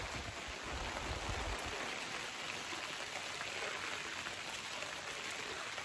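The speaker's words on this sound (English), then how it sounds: "it is raining, but I thought ahead and put my canopy tent up yesterday" Steady rain falls outdoors onto a canopy tent in a dense, continuous patter that stays even and moderately loud throughout, with no voices.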